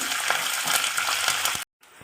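Spices and fresh curry leaves sizzle steadily in hot oil as a tempering for pulihora, a busy crackling hiss that ends abruptly in silence.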